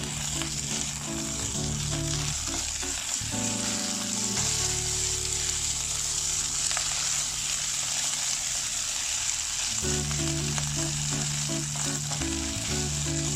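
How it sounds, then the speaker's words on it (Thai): A fried egg sizzles steadily in hot oil in a pan as it is broken into small pieces, with a continuous close crackle and spatula scraping under a constant hum, no talking. "เดี๋ยวเราก็จะยีไข่นะครับ"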